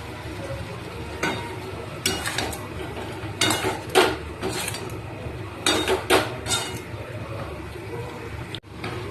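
Eggs being stirred and sautéed in a pot, with repeated bursts of metal utensil scraping and clinking against the pan between quieter stretches; a voice is faintly present.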